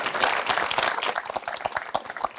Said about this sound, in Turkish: Bak bir alkış